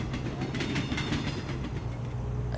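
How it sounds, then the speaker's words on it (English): A video game train rushes past with rhythmic clickety-clack and a broad whooshing roar that fades slightly toward the end, fairly quiet overall. "A train."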